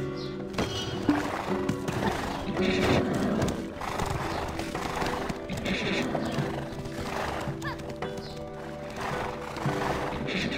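A horse whinnies and its hooves clip-clop at a stable in the game Black Desert, close and fairly loud, over game ambience and music while a voice speaks.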